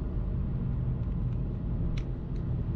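A BMW N52 engine in a car on the autobahn coasts down with the foot off the pedal, a steady low rumble and road roar that carries on evenly throughout.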